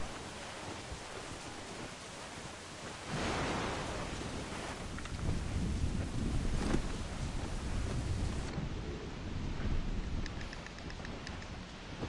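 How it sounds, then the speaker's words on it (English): Heavy rain from a thunderstorm while sailing in the video game Assassin's Creed Rogue, a constant loud downpour hiss that swells into a rolling thunder rumble partway through, with no voices. "This still feels really dumb to be sailing during this heavy of a storm."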